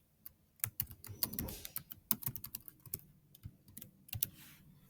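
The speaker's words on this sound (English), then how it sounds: "I'm going to enter my school email" Computer keyboard typing a school email address, a quick uneven patter of close, crisp keystrokes in short bursts, quiet with no talk.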